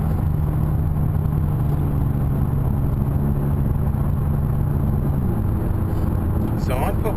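McLaren 570S engine drones steadily on the Thruxton circuit, a loud continuous hum with the pitch easing down late as the car slows, under a person talking.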